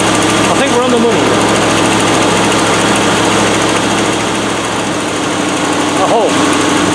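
A NATO 110 with a V8 engine idling around 1500 RPM on a chilly day, a loud steady drone that holds throughout, with a couple of brief faint chirps over it.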